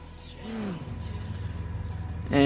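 A race car engine in the video game Project Cars 2 hums steadily at low volume, with a short pitch sweep early on and a sudden louder burst of revving near the end.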